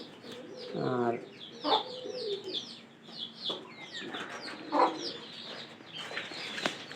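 Pigeons in a new coop coo repeatedly in soft, rounded calls, close by, while other birds chirp in the background and a voice speaks briefly.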